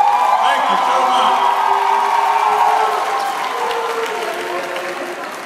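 A large crowd at a high school ROTC event applauds and cheers loudly and continuously, dense clapping with scattered whoops filling the hall and slowly easing off, with some voices mixed in.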